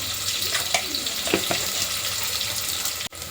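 Salted onions frying in a pan for chicken biryani give a steady, close hiss of sizzling oil with a few soft stirring clinks and a sharp tap near the end.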